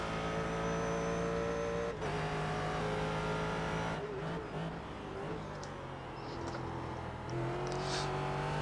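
A race car engine drones loudly at Watkins Glen in iRacing, revving up and dropping through downshifts with steady harmonic whine, tires squealing faintly mid-corner, no voices over it.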